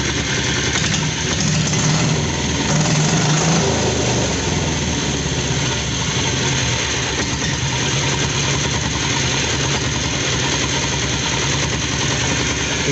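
A 7.5 HP diesel engine fitted to a Bullet motorcycle idles loudly and up close, its steady rough chugging filling the whole stretch with no talk over it.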